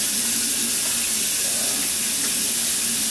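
Steady running water from a sink tap wetting hair, a constant loud hiss with no breaks.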